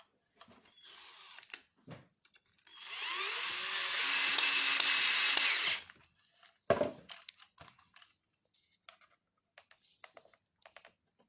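A power drill drives self-tapping screws into the trunk of a Fiat Tipo during a trunk-lock repair, whining steadily for about three seconds, surrounded by scattered clicks and small handling knocks.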